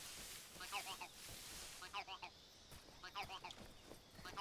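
Bird calls in the stealth action game Metal Gear Solid Delta, short chirping bursts recurring through the clip alongside other game sounds, mid-distance and moderately loud.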